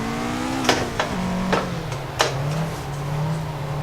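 Toyota AE86 engine pulling on throttle during a drift in the Assetto Corsa racing game, a steady close engine drone whose pitch dips then holds, with a few sharp clicks over it and no talking.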